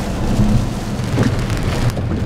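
Rain drums on a Tesla car, a thick steady hiss and patter on the body and glass with low rumbling underneath, close and unbroken, no one speaking.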